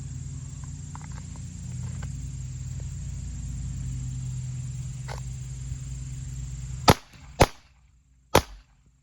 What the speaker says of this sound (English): That first shot is definitely unique.